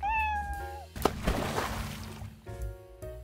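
An Egyptian Mau cat gives a drawn-out meow, then a noisy rustling stretch follows before a second shorter meow at the end, all close and fairly clear.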